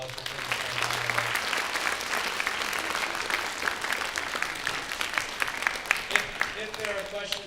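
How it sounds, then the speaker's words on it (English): A school senior transition panel audience applauds steadily for the panelists, a dense, even clapping crowd sustained throughout. "Let's give them one more round of applause for taking the time."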